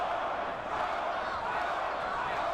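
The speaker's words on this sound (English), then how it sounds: "Crowd shouting Big George's name." An arena crowd at the George Foreman vs Michael Moorer boxing match roars in a steady, dense wall of shouting and chanting for Big George, with no breaks in the noise.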